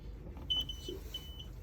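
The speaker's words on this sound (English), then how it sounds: "that's beeping at me because it's saying no gas" A caravan's no-gas warning sounds as two short high electronic beeps, spaced under a second apart, faint over a low steady background hum, with no one talking.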